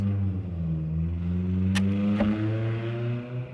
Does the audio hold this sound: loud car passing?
yes